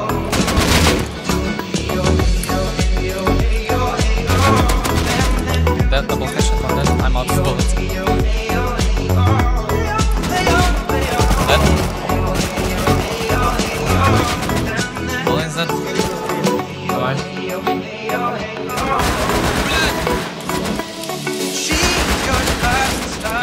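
Dense, continuous automatic gunfire and rapid shots fill a Rust video-game firefight, loud and unbroken throughout with a brief lull near the end.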